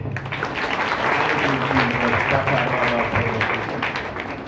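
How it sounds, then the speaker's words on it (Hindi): A church congregation at a Good Friday service in Mumbai applauds in a loud, sustained burst of many hands clapping together, holding steady for several seconds before tapering slightly. "ये अपने आप के लिए ताली मारिए।"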